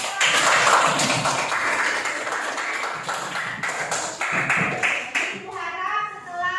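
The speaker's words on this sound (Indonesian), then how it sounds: "tepuk tangan untuk kita semua" Schoolchildren in a classroom clapping together, loud and close for several seconds, with children's voices mixed in before the clapping tapers off.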